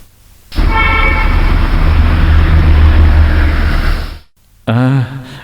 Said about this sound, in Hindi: मैं गाड़ी निकाल लूं।